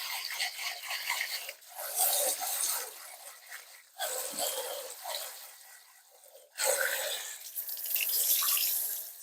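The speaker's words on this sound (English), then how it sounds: "by the time you drain the 4th time or so, that water is going to come out clear" Water runs from a tap over rice in a pot as it is rinsed and drained for a one-pot biryani, splashing and trickling in three bursts separated by brief pauses, with scraping of grains against the pot, close and moderately loud.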